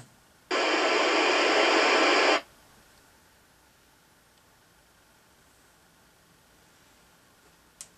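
A burst of hissing static from a Midland 77-810 Ready Rescue CB27/81 CB radio emergency kit during an on-air test, lasting about two seconds, then cutting to quiet background with a faint click at the end.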